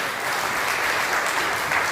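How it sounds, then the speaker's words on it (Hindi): An audience at a Hindi poetry gathering (kavi sammelan) in Sitapur breaks into dense, steady applause, a loud and even roar of many hands clapping with no pause. "मुझे शुभकामना की कुछ तालियां दीजिए"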